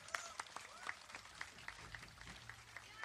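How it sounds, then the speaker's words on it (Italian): Scattered clapping from an audience at a student concert evening, a series of distinct claps at moderate pace, faint and fairly thin, with low room rumble underneath. "un applauso anche a Salvatore"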